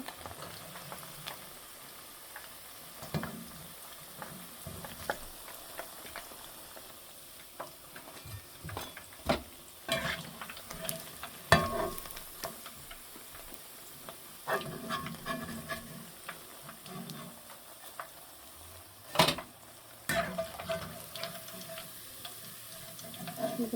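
Chicken and vegetable pakoras coated in cornflour crackle and sizzle in hot oil while being lifted out, with scattered scraping clinks of a utensil against the pan; no talking.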